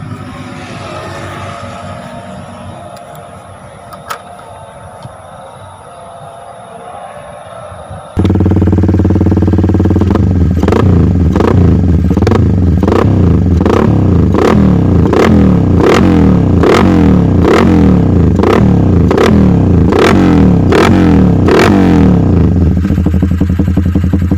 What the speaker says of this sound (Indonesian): Kok kita simak suaranya. Kebetulan ini juga menggunakan knalpot bacot.